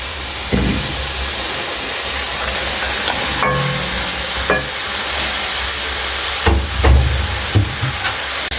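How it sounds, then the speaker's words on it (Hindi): Chicken pieces for a desi chicken curry frying in oil in a pot, a steady close sizzle with occasional scraping stirs and clanks, no talking. "इसको थोड़ी देर भूनेंगे, अच्छी तरीके से भूनना कि जो इसकी स्मेल ख़त्म हो जाए।"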